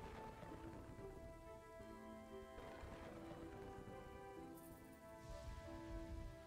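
Rain falls steadily in the medieval city-building game Kingdoms and Castles, a soft constant patter layered with sustained musical tones from the game's soundtrack, no talking.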